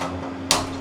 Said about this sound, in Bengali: গ্যাসটা ধরানো হলো।